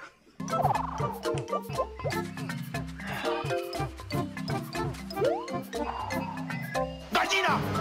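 Chickens cluck over steady game music in Super Mario Maker 2, a run of short, close fowl calls repeating loudly throughout.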